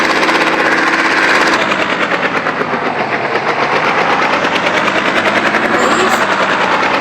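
Rapid, continuous bursts of gunfire rattle on without pause, loud and sustained, with a mechanical, game-like quality, from the mobile game Indian Bike Driving.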